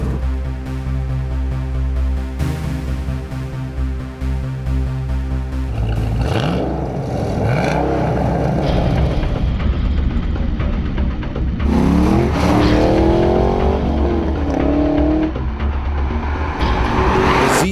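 A 2014 Chevrolet Camaro Z28 with its big V8 and six-speed manual and a 2014 Nissan GT-R Track Edition race on a drag strip, engines droning and revving loudly through gear changes with bursts of tyre squeal.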